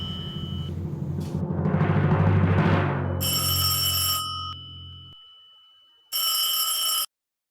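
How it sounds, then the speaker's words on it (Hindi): A telephone rings in a home, with electronic ring bursts repeating after a stretch of background clatter and an abrupt cut to quiet between rings. "अरे जा, तेरा फोन बज रहा है,"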